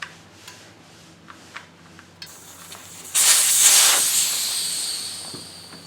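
Air rushes out of a Honda CRF250L motorcycle tire through the open valve stem with the core removed: a loud, sudden hiss that starts midway, after a few soft clicks, and slowly fades while still running.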